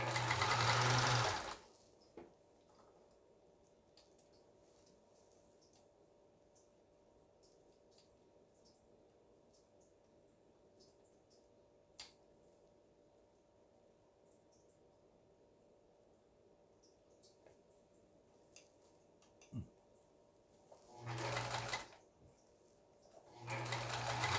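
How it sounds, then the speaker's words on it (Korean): A Riccar 530 household sewing machine stitching after repair and feed-dog replacement: two short, loud bursts of rapid mechanical whirring, one at the start and one near the end, with a quiet hum between them. "전후진 버튼 정상적으로 작동되고 예, 박음질이 잘 되는 걸 볼 수가 있습니다"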